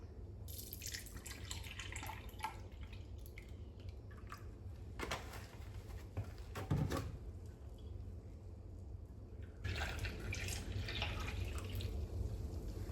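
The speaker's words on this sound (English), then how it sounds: "And I'll do 2 cups of milk." Two cups of 1% low-fat milk poured into a pot for banana pudding, a steady liquid trickle and splash running for several seconds, then pausing and resuming near the end, with no talk.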